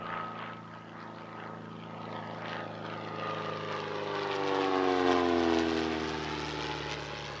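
A Caudron 450/460 racing aircraft with a Renault 456 engine drones steadily at an air show at La Ferté-Alais, its tone rising and swelling as it passes, a continuous mechanical hum with no voices.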